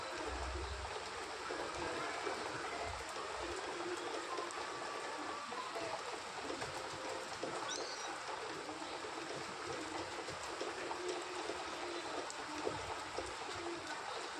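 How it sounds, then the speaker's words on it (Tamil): Heavy rain pours down outside a house as a steady, hissing wash of noise, continuous and fairly faint, with no voices. "என்னன்னு கதவை திறந்து பார்த்தா மழை சரியான மழை"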